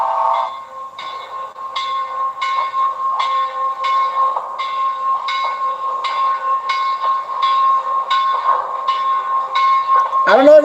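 A train rumbles along steadily with a rhythmic clickety-clack, wheels striking rail joints at an even pace, played back from old 16 mm film footage, ending with a brief voice.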